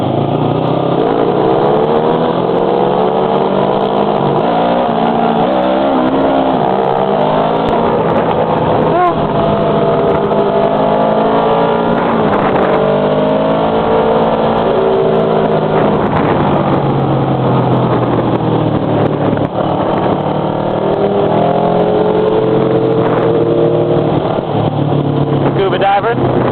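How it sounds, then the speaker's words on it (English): A motorcycle with a loud muffler rides through Taipei traffic, its engine droning and revving steadily, close and loud, with someone talking over it much of the time. "it's times like that I'm glad I have a loud muffler"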